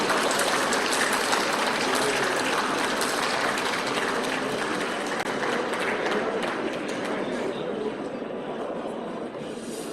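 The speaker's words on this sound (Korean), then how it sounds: "박수로 맞이해 주십시오" A room full of people at a Korean government procurement expo ceremony applauds continuously, a dense steady clatter of clapping that tapers slightly toward the end.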